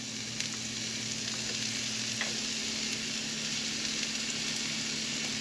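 Onions and zucchini sauté in a hot pan, giving a steady, even sizzling hiss at constant loudness with faint crackles, and no voices.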